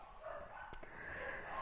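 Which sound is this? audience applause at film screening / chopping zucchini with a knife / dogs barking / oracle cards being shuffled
dogs barking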